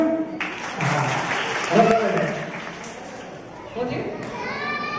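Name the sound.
audience clapping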